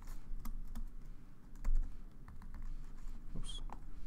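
Java code is typed on a computer keyboard, scattered irregular key clicks and taps at close range with a few heavier strokes, moderately quiet and without talk.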